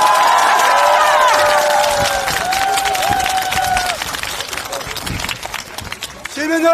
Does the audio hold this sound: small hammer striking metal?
no